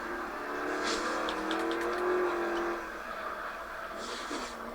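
Car drifting in a racing video game, engine revving steadily with a rising tire-squeal whine held for a few seconds, then easing off before a short second squeal; no speech.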